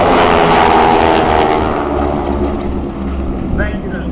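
The AeroShell Aerobatic Team's big 5,500-pound propeller airplanes fly tight formation maneuvers at the 2010 Vectren-Dayton Air Show, a loud, close, continuous engine drone that swells and eases slightly throughout.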